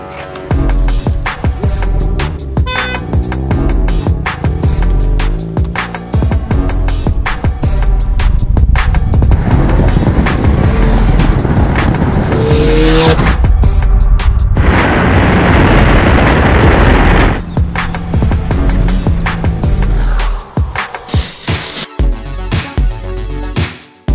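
Toyota Supra from AMS Performance drifting, its engine roaring loud and continuous with revving surges and tire squeal layered over a long, harsh, close-up run.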